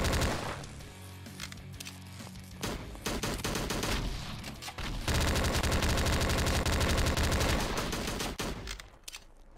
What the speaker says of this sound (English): Now I have the SMG.